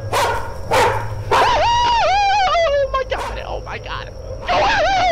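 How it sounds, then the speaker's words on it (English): A dog barks and yelps loudly and close, with sharp short barks followed by drawn-out, wavering whining cries and more barks, while a person shouts over it. "That dog wouldn't be barking anymore either."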